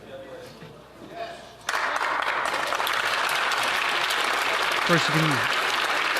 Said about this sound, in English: see the round of applause coming from the Conservative side for Damien as he's ejected from the House